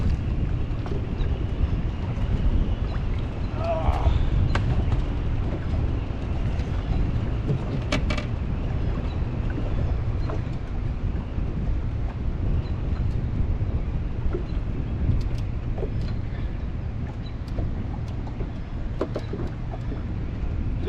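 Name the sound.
strong wind blowing on a fishing boat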